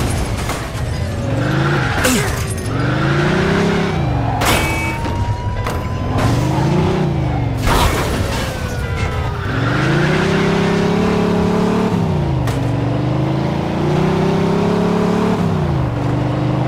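A speeding car in the Mafia II video game revs hard, its engine pitch climbing and dropping through gear changes, with tire squeals and passing whooshes during a chase, loud and continuous throughout.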